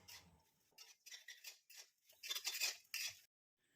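A spoon scrapes and stirs masala dosa potato filling in a pan in a series of close, bright scraping strokes with short pauses between them, the last few louder before it stops.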